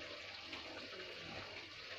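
Water runs steadily from a tap as fish is washed in a dhaba-style kitchen, a soft, continuous splashing hiss with no breaks.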